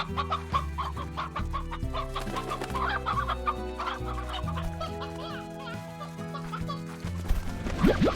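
Chickens and a rooster in the Slime Rancher video game cluck repeatedly, loud and close, with the clucks layered over steady game music and building into a busier burst at the end.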